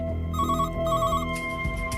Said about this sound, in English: But soon another call comes in from the same phone.